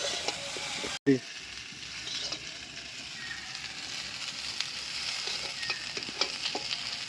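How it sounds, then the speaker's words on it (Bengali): Potato and cauliflower sizzle steadily in a frying pan, a continuous close hiss with scattered stirring clicks and a brief knock near the start. "আলু ফুলকপি আমার সুন্দরভাবে ভাজা হয়ে গেছে"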